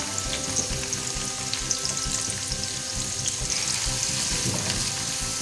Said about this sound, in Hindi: प्याज को आप फ्राई कर लें।